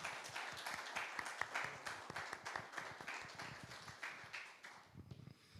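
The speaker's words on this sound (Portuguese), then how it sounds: "E que as palmas louvam o Senhor Jesus." A church congregation applauding in praise during a worship service, dense rhythmic clapping that stays steady and fairly close before thinning out at the end.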